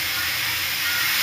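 Red boondi batter drops sizzle in hot oil, giving a steady, close hiss throughout with no talking.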